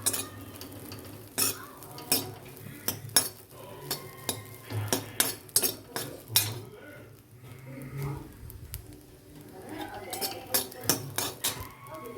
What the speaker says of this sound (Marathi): आज जाण्यासाठी आपण ही भाजी स्वच्छ भाजून घेणार आहोत